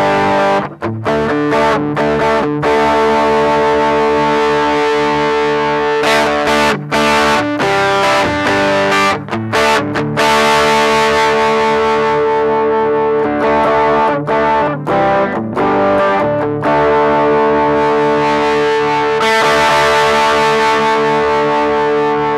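Electric guitar played through a Zoo Drive overdrive pedal with its treble control adjusted, the high cut filter off: a loud, sustained distorted tone with chords ringing continuously and brief gaps between phrases.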